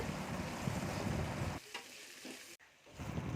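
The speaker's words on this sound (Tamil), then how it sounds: "நறுக்கி வச்சுருக்க பெரிய வெங்காயத்தை போட்டு நல்லா வதக்கிக்கணும்." Onions sizzle and crackle in a hot pan, a close frying hiss with brief stirring scrapes and a couple of short drops in sound.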